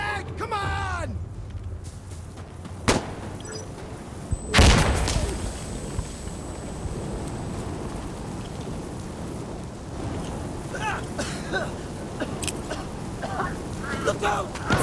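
Frag grenade blast and gunfire in the Insurgency: Sandstorm shooter game, with a sharp close explosion partway through, scattered shots and crackle around it, and rain-like noisy battle ambience with voices calling out.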